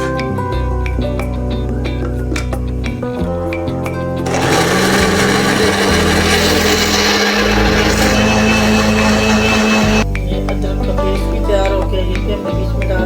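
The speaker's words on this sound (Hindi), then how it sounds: "ये सब हम ग्राइंड करने लगे हैं।" A kitchen grinder whirs loudly for about six seconds as it blends green chillies, ginger, garlic and a small piece of beetroot into a paste, with background music before and after the grinding burst.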